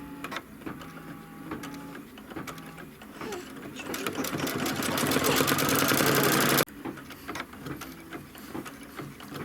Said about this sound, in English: it's going to stitch that placement line